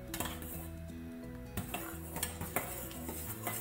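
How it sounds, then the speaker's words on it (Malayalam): A thickening arrowroot milk drink is stirred in a pan, a utensil clinking and scraping against the metal in a steady rhythm, with a faint bubbling hiss underneath. "ഇതിങ്ങനെ കുറുകി വരുമ്പോൾ എപ്പോഴും ഇളക്കിക്കൊണ്ടിരിക്കണം"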